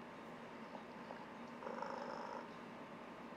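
A soft, low cat purr rumbles steadily and quietly, swelling slightly midway before settling back.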